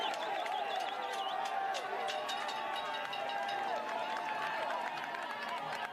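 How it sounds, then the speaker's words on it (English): Cycling fans at the 2025 UCI Road World Championships men's elite road race cheer and chant for Tadej Pogačar, a loud, steady crowd roar with a commentator talking over it. "And they're cheering"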